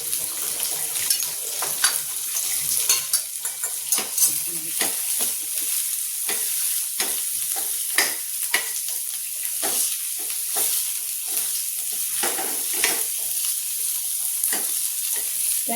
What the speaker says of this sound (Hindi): प्याज बिल्कुल लाइट ब्राउन भूनेंगे